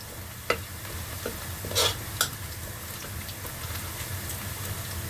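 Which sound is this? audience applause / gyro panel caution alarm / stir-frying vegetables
stir-frying vegetables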